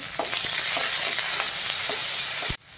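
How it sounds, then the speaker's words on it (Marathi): Finely chopped onion and a little tomato sautéing in a hot pan for a drumstick dal, a steady close sizzle with scraping stir strokes throughout that cuts off abruptly near the end. "कांदा टाकूया बारीक चिरलेला आणि टोमॅटो टाकूया थोडासा। आता हे छान परतून घ्यायचंय।"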